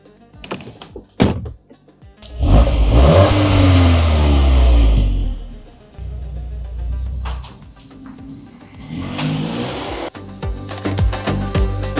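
Audi S3 engine revving up loudly as the car accelerates, a sustained surge lasting a few seconds, followed by quieter cabin rumble and a second brief rise, with a few door-like thunks at the start.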